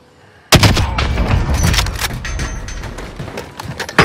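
Gunfire rings out in a multiplayer shooter video game, with a sudden loud burst followed by a dense run of rapid shots and booms that continues for several seconds.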